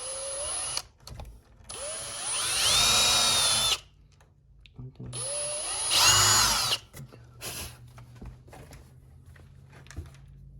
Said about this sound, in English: I'm going to drill that one in now